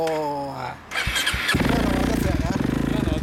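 A 2015 Yamaha Majesty 250 scooter fitted with a Python 3 exhaust is started. A short cranking whir gives way to a loud, close, pulsing idle. People speak just before it catches.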